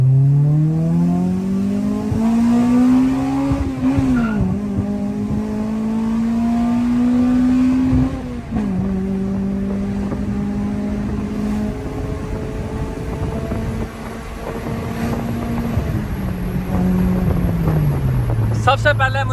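A 1500cc Suzuki FX project car with a modified exhaust chamber accelerates, its exhaust note rising through repeated gear pulls with brief dips between shifts, loud and close over a continuous engine drone.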